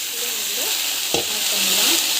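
Food sautéing in a pan with garlic, a steady loud sizzle throughout, broken by one sharp scrape or stir near the middle.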